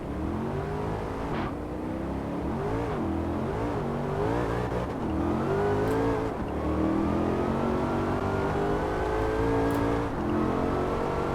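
Car engine in Forza Horizon 4, driven with a Logitech G920 wheel, revving and accelerating continuously with rising pitch through gear changes, loud and steady with no talk.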